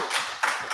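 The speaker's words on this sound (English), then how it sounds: "give them a big round of applause" Brief, dense applause from an audience for candidates at a Hamilton East Ward by-election forum, a close burst of many hands clapping.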